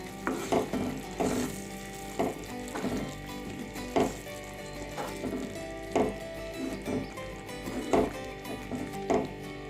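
Coriander is stirred into a simmering mushroom masala gravy in a pan, with a steady bubbling sizzle and a series of spoon scrapes and knocks at roughly regular intervals, close and with no talking.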